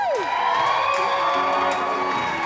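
A concert crowd in Poughkeepsie, New York cheers loudly with whoops and high shouts in a sustained, dense wave that stays strong throughout.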